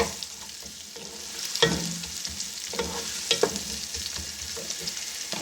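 Garlic and white cumin sizzle steadily in oil in a pan while being stirred, with occasional scraping clicks and pops over the continuous frying hiss.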